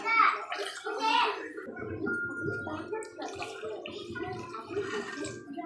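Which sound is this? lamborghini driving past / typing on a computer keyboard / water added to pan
water added to pan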